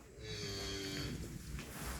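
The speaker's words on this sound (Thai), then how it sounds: "นี่นะครับวัวขุนวากิวนะครับ" A Wagyu fattening steer on a farm gives a long, loud, drawn-out moo that fills the whole moment, close by, with no talking.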